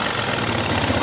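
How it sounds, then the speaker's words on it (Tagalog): A Honda XR200 motorcycle engine with a faulty timing chain tensioner, running with a steady knocking rattle under acceleration, loud and close, without any voices. "Pero pag ibibirit na natin yung ating acceleration, may ingay siya"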